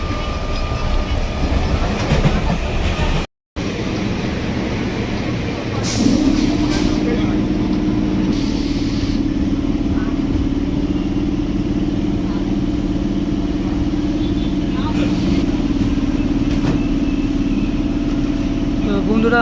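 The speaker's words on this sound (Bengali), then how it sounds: "ট্রেনের মধ্যে আছি আমরা সবাই" Inside a moving train, a steady loud rumble of wheels and carriage noise fills the space, with a sustained hum joining partway through and passengers' voices faint beneath.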